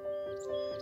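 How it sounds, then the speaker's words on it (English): Birds chirping beside the French River after a thunderstorm, a faint, brief tweet over steady tonal hum and quiet background. "You can hear the birds."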